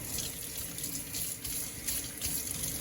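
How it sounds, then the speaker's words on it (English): Printmaking brayer scrubbed with a sponge under a running sink tap, faint steady water flow with soft irregular scrubbing swishes. "If there is a large sponge in the sink, the brayer can be rolled over it to clean it."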